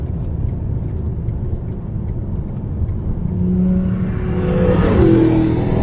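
A Lamborghini on a racetrack slows into the pit lane at reduced speed, its engine a steady close drone that swells and rises in pitch over the last few seconds.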